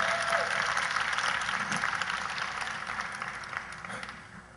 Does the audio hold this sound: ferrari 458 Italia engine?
no